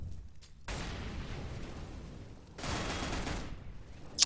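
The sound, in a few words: gunfire, headshot in an esports video game match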